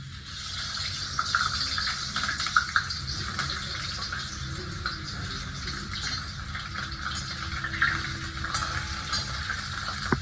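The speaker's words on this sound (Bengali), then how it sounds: "এখন তেল গরম হয়ে গেছে, হুম, তো এইবারে আলুটা আলু ভেজে দেখে দাঁড়া।" Potatoes frying in hot oil give a steady, close hiss that runs unbroken through the clip, with small crackles scattered across it and no talking.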